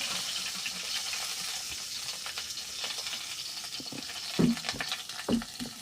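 Cumin and curry leaves sizzling in a little hot oil for a Navratri fasting potato bhaji, a soft continuous crackle with a couple of louder spatters or stirring knocks toward the end, no voices.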